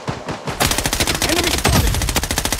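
Rapid bursts of M4A1 automatic rifle fire in the shooter game Blood Strike, loud and close, with sharp evenly spaced shots in a fast continuous rhythm after a brief quieter opening.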